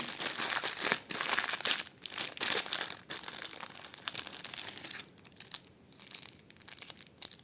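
Crinkly plastic packaging of craft supplies rustles and crumples in bursts close by as it is unwrapped, with short pauses between handling sounds; no talking.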